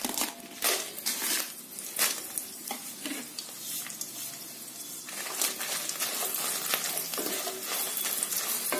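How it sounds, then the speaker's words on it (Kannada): Dry red chillies fry in about two teaspoons of oil in a pan. A continuous crackling sizzle runs throughout, broken by sharp scraping and clinking as they are stirred. "ಈ ಮೆಣಸಿನ್ಕಾಯಿ, ಒಣ ಮೆಣಸಿನ್ಕಾಯಿನ ಚೆನ್ನಾಗಿ ಫ್ರೈ ಮಾಡ್ಕೊಳ್ಬೇಕಾಗತ್ತೆ ಗರಿ ಗರಿಯಾಗೋವರೆಗೂ"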